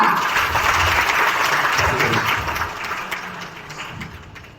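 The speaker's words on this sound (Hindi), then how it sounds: "जोरदार तालियां" An audience at an event honouring a doctor breaks into sustained applause, a dense wash of many hands clapping that gradually softens toward the end.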